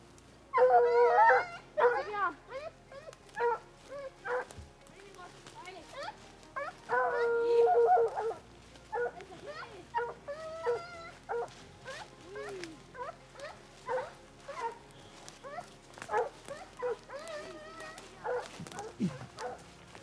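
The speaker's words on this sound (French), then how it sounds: "Les chiens reconnaissent la voix immédiatement et se récrient." Hunting hounds bay and howl in bursts during a scent trial in Haute-Loire, loud barks and yelps breaking out repeatedly, with a voice calling and urging them on in between.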